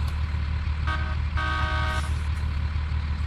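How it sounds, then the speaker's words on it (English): A bus air horn blasts in two bursts, a short one then a longer sustained tone, over the steady low rumble of the bus engine driving down a road. "Sound that air horn."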